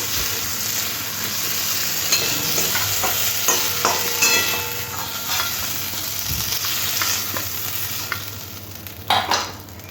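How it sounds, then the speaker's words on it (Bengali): Prawns coated with salt and turmeric fry lightly in hot oil with a continuous close sizzle, while a spatula stirs and scrapes in irregular strokes, ending with a couple of sharper clanks. "চিংড়ি মাছগুলো আগে থেকে নুন আর হলুদ মাছে হালকা করে একটু ভেজে নিলাম"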